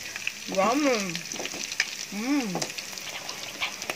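Pork fries in its own rendered fat with a continuous crackling sizzle. A voice speaks briefly twice over the frying.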